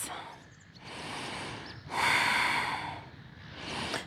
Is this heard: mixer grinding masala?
no